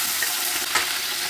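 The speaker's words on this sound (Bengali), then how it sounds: "মানে লটে শুটকিগুলি তেলে দিয়ে দিচ্ছি" Dried loitta fish fries in hot oil, a dense, loud, close hiss of sizzling that holds steady through the short moment with a brief crackle, with no voices.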